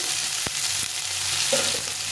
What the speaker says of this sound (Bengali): পেঁয়াজটা দিয়ে শুধু নিয়ে পেঁয়াজ আলুটাকে একটু ভেজে নেব